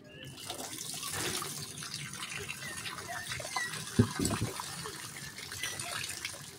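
Water is poured over a growing medium that has been squeezed and rinsed, making a soft, continuous splashing trickle with one brief louder splash partway through, all fairly faint.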